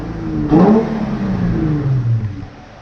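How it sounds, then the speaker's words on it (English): A Nissan 350Z engine, just fitted with a new clutch and flywheel, revs up sharply in a quick blip, then the pitch falls back and settles toward idle, close and fairly loud with no talking. "This thing revs real nice."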